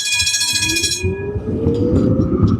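A tram passes through a street in Turin: high tonal screeching and whining from the wheels fades into a rumbling roll with steady rail noise, close and loud, with no talk.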